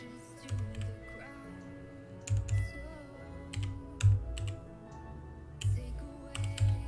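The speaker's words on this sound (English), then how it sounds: "Sometimes I press too many buttons on my keyboard." Keys clack on a computer keyboard in short irregular bursts of several presses each, close and fairly loud against a faint background hum.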